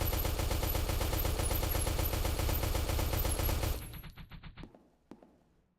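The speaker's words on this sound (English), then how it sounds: "have you ever sprayed a full mag of a C20?" C20 gun in Space Station 14 firing a full magazine in one rapid, loud, unbroken burst for nearly four seconds, then a few sparse mechanical clicks and a final single shot-like thud as it runs dry.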